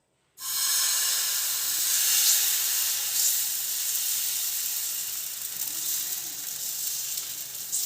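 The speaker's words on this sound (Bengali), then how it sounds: "দিয়ে এবার আমি ব্যাটারটা দিচ্ছি।" Batter poured onto a hot tawa brushed with refined oil, bursting into a loud, close, continuous hissing sizzle that holds steady and slowly eases over several seconds.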